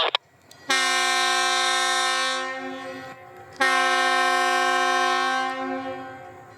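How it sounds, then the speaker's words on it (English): Two long, loud blasts of a train horn from a holiday excursion train departing northbound in Central Florida, each a sustained chord near the microphone separated by a short gap, fading slightly at the end of each. "Two blasts of the horn and the 5:30 excursion is off northbound to Willow, right on time."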